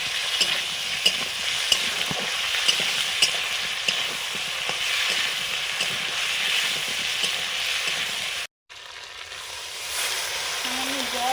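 Potatoes fry in a pan with ginger paste, green chili paste, cumin-coriander paste, chopped tomato and a splash of water, stirred steadily. A close, continuous sizzle carries scraping stir strokes, with a brief drop partway through.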